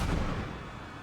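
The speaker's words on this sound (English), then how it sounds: "There goes the bomb." A bomb explodes in a video game, a loud, broad low boom that rolls off slowly over about a second with no talk over it.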